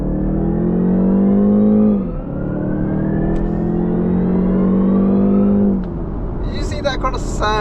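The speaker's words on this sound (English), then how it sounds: "you can hear like a bit of whooshing going on like through the speakers of the car" BMW G60 530e plug-in hybrid sedan driving on the road, giving a steady mid-pitched engine drone with a synthetic whooshing tone through the cabin speakers. The pitch rises, then drops twice as the car eases off, with some faint chatter near the end.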